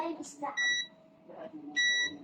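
Short electronic beeps from a multimeter continuity test on SMD capacitors in a 32-inch Everest LED TV with bar lines, a few times, separated by pauses, with faint background noise and a voice murmuring between them.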